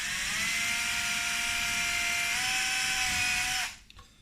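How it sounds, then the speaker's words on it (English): An electric drill bores a hole for the tailwheel of a Pilot Edge 540 v3 20cc RC plane: a loud, steady high whine held for several seconds, then cut off abruptly into near silence. "I'm going to go ahead and drill my second hole."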